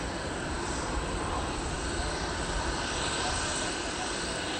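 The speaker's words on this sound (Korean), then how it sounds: "공항 활주로는 이착륙하는 비행기들로 붐비고 있다" Airplanes taking off and landing at night at Hong Kong's Chek Lap Kok airport: a steady, dense jet-engine roar, loud and unbroken throughout, with no clear speech.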